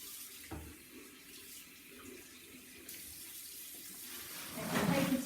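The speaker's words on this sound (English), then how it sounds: "and then rinse off." Tap water running into a sink while hands are rinsed, a steady close hiss of flowing water that swells louder near the end as the stream hits the hands and basin.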